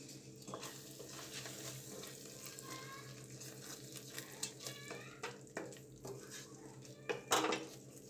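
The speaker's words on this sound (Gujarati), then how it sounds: "હવે આ બધું મિક્સ કરી અને આપણી ગ્રેવીમાંથી તેલ છૂટું પડે ત્યાં સુધી આપણે ચડવા દઈશું" Spiced spinach gravy is mixed and fried in a pan, with a continuous sizzle under repeated scrapes and clinks of a metal spoon against the pan, close up. A sharper scrape comes near the end.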